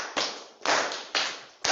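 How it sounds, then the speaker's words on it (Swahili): Hands clapping in unison in a church service congregation, four loud, evenly spaced claps in a steady rhythm, close and clear with no talk over them. "Tupige makofi."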